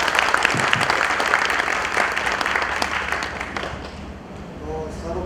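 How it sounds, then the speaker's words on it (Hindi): Audience applause welcoming a guest at a women's wing and labour registration awareness program, a sustained wash of clapping that slowly fades, with voices faintly underneath toward the end. "श्रीरंगम साहब का जोर से स्वागत कीजिए तालियों से"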